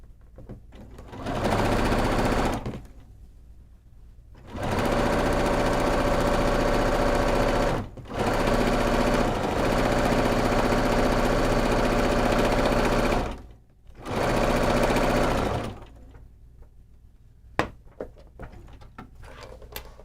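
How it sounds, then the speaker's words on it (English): A sewing machine stitching quilt binding in place runs in loud, steady whirring bursts, several long runs separated by short pauses, followed by a few light handling clicks at the end. "And then we can finish sewing that binding in place."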